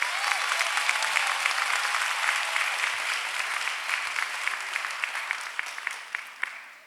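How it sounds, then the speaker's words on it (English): Audience at a PVA commencement ceremony gives a round of applause, a dense steady patter of many hands clapping that fades near the end, with no talk over it. "How about a round of applause for Nayeli?"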